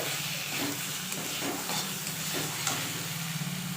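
Fried paneer pieces stirred into thick cooked masala in a pan for matar paneer, a steady broadband sizzle with soft repeated scraping strokes of a spoon, close and continuous throughout.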